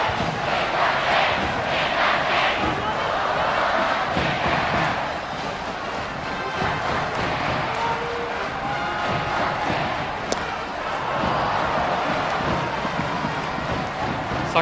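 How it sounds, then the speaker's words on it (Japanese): A large high school baseball stadium crowd roars and cheers continuously, swelling and easing in waves across a wide, open space. "この空振りで今度は三塁側の柳川のアルプススタンドが大歓声。"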